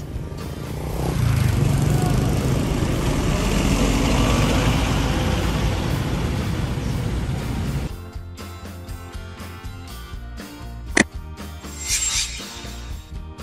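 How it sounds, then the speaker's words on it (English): City bus engine running and driving past, a broad, sustained droning rumble that swells and holds for several seconds before dropping into quieter street noise with a single sharp click. "City bus."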